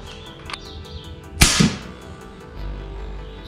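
An air gun fires an Inferno Rex 23 grain slug into clay, giving one sharp, loud crack followed by a short smacking impact and then a low rumble.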